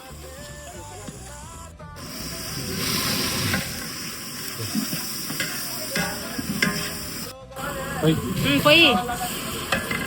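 Ginger being stirred into a pot of bagara rice base, a continuous close sizzle with scraping stirs and brief pauses, while people talk over it throughout.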